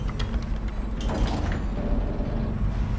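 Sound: door closing after pulling a lever, from video game Dishonored

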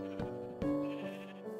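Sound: sheep bleating in video game Lost Island Survival

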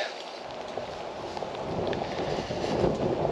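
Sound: cold wind

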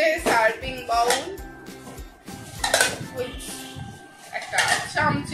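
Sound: serving bowl being handled while unboxing

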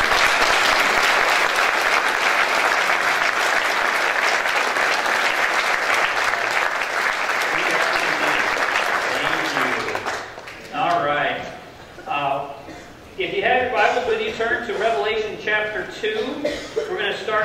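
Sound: congregation applause

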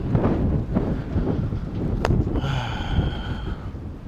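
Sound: wind on a beach

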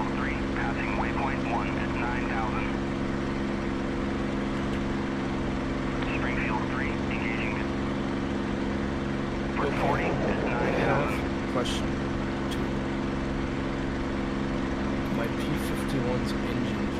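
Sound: P-51 aircraft engine in DCS video game

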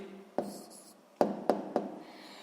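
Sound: writing the answer with a pen

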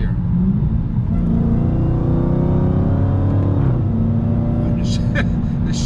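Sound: Dodge Challenger Hellcat engine revving during a downshift

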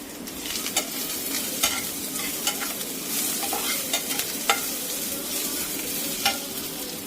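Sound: onion and green chilli frying in pan

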